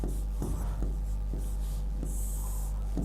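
Chalk or marker writing on a board during a Hindi grammar class, a series of short scratchy strokes repeating at a steady close rhythm over low room hum, with no voices.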